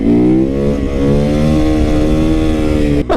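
A supermoto motorcycle engine revs hard and steadily as the throttle is cranked open, a loud, close, sustained roar with a rising then holding pitch that cuts off abruptly at the end.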